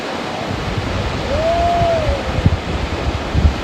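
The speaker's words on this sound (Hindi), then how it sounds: "ये देखो भाई वाटरफॉल" A waterfall beside the Kali river rushes in a constant broad roar, heard up close with wind buffeting the microphone and a brief tonal whistle-like sweep partway through.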